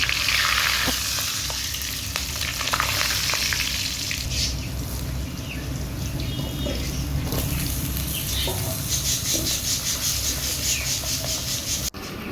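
Potato pieces frying in oil in a kadai give a steady crackling sizzle, with scraping and stirring against the pan over it, fairly close and without talk.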